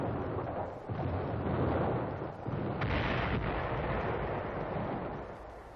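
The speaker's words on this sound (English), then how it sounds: "British artillery positions near Villers-Bocage under Nazi counter-battery fire" Heavy artillery fire near Villers-Bocage in 1944, sounding as a continuous loud rumbling roar of distant blasts with a few sharper booms rising out of the din.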